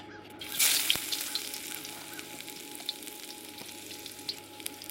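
Ginger sizzles as it hits a hot pan for a pork and baby bok choy stir fry, with a loud burst of spitting oil near the start that settles into a steady crackle, broken by a few clicks and scrapes.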